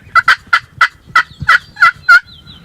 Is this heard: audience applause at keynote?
no